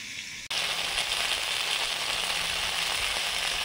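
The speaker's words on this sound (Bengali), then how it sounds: "মাছে নুন হলুদ মাখিয়ে নিয়েছি, এবারে ভাজবো। সর্ষের তেল দিয়েছি" Fish seasoned with salt and turmeric drops into hot mustard oil, setting off a sudden loud, close sizzle that keeps crackling steadily with no voices.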